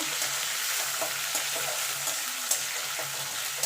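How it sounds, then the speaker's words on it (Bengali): Shrimp paste and bottle gourd leaves fry lightly in a pan with a steady close sizzle. Faint stirring scrapes and ticks recur throughout, and no one speaks. "এবার হালকা করে এগুলো ভেজে নেব"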